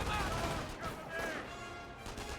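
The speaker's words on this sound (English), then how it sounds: "Rifle squad getting suppressed by the MG42." Dense, continuous MG42 machine gun fire in Company of Heroes 1 rattles on without pause, mixed with distant battlefield crashes and a voice talking over it.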